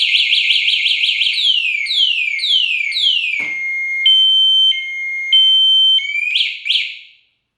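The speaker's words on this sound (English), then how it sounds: "it gives you a couple of warning alarms, and then it really goes nuts and actually locks up the back wheel" An E-vader scooter alarm with keyless start blares loudly and close, cycling through rapid chirps, sweeping warbles and steady high tones in quick succession before cutting off abruptly.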